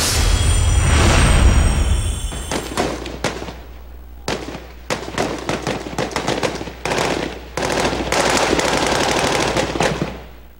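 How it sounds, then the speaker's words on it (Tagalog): Soldiers' rapid gunfire during urban fighting against Maute group members in Marawi City, heard as loud, close bursts of automatic fire and sharp single shots in quick irregular succession after a heavy rumbling opening, with no talk. "Sunod-sunod na putok ng baril ang pinakawalan ng mga sundalo."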